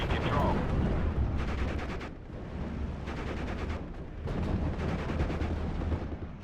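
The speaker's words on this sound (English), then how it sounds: "Ready to fire. The mortar's on target there." Mortar fire in Steel Division: Normandy 44 comes as repeated loud blasts in bursts separated by short pauses, with booming low rumble beneath, amid battle noise.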